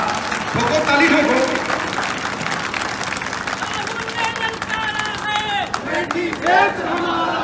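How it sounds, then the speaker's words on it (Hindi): A large crowd at an outdoor political rally in Amethi claps and cheers loudly, the roar mixing with shouting voices and babble throughout. "ठोको ताली ठोको।"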